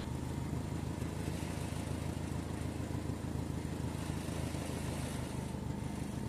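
Engine of an owner-type jeep idling steadily after a carburetor air-fuel adjustment, a continuous even low rumble close by, with no break.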